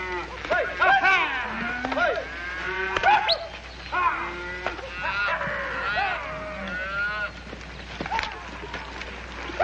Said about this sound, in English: That takes care of the cattle in the north section